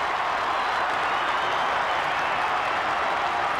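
Football crowd at an Aussie rules match cheering and applauding after a goal, a steady dense roar of clapping and shouting throughout, loud and continuous with no distinct voices on top.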